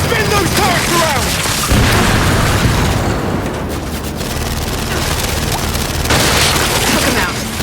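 Sustained heavy turret gunfire from the Gears 5 campaign, a dense continuous barrage of booming bursts mixed with explosions and game voices, loud and near throughout.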